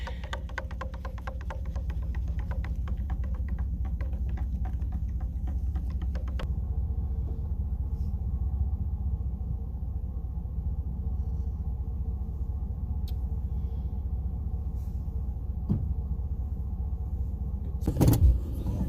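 A four-wheel drive vehicle drives across lake ice, its engine a steady low rumble with road hum that carries on throughout, and a brief rattling knock near the end.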